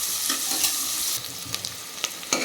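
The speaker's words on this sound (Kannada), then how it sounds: "ಇದು ಚೆನ್ನಾಗಿ ಫ್ರೈ ಆಗಲಿ, ಗೋಲ್ಡನ್ ಬ್ರೌನ್ ಬರೋವರೆಗೂ ಚೆನ್ನಾಗಿ ಫ್ರೈ ಮಾಡ್ಕೊಳ್ಳೋಣ." Chopped onion frying in hot oil in a pan for a beetroot masala gravy, with a steady loud sizzle throughout and brief scraping clinks as a spoon stirs it.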